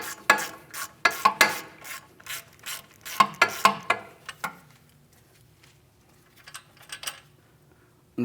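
A ratchet fitted with a 15 mm socket loosens a front wheel hub mounting bolt on a 2016-2025 Chevrolet Malibu, giving quick bursts of sharp clicking strokes up close, then quieter scattered clicks.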